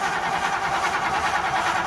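The engine of a 1957 Ford Fairlane 500 convertible, just pulled out of storage, runs steadily with the throttle open, a continuous close, rough hum with no talk.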